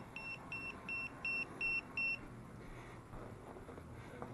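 A Jepwco G4 Pro anti-spy detector gives six short, evenly spaced electronic beeps near a Wi-Fi router, then falls silent over faint room noise.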